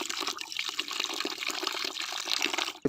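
Water pours steadily from a water tank at a tent city, a continuous broadband splashing and rushing flow that holds for the whole stretch without pause.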